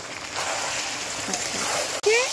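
Water pours steadily into a pan of chicken curry with potatoes, a continuous close splashing rush that ends abruptly, followed by a brief slosh.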